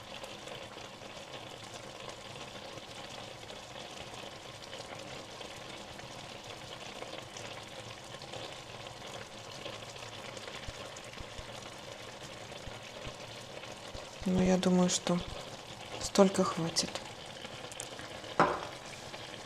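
Oil sizzles and crackles steadily in a frying pan, heated for frying eggplant, with louder bursts of hissing near the end; a voice speaks briefly over it.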